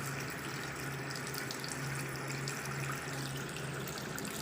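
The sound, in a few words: dirty water running from a tap at a COVID care centre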